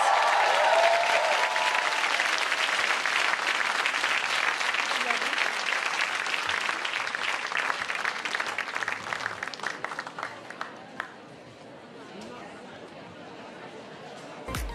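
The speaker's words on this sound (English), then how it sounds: "a wonderful, loud round of applause for all our wonderful speakers" A large crowd at a speaker event applauds loudly and steadily for about ten seconds, the clapping thinning out and fading into quiet murmur at the end.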